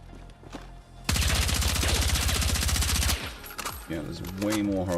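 Suppressed rifle fire in the video game Battlefield 6, one sustained rapid burst of evenly spaced shots lasting about two seconds, followed by a few fainter trailing sounds and a voice talking.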